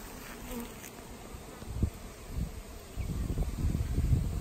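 Buzzing of swarming bees outdoors at a lake, a low steady hum that swells louder in the second half, with faint rustling and wind underneath.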